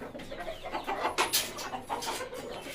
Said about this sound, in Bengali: এখানে 3টা মুরগি আর একটা মোরগ আছে